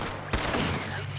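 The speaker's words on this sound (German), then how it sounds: "Wir ballern wieder alles hier." A single sharp gunshot in the video game Fallout 76, loud and close, followed by a short ringing tail over a low ambient hum.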